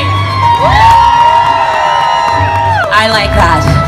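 An arts event crowd screams and cheers loudly in response to a performer on stage, with shrill whoops and shouts rising over the noise and a fresh burst of screaming toward the end.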